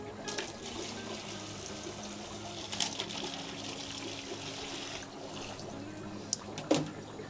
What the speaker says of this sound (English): We'll just go ahead and fill up all these tubs.